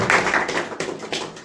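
A church congregation claps together for the Lord, a dense burst of hand claps with a few brief breaks, close and fairly loud with no talk over it.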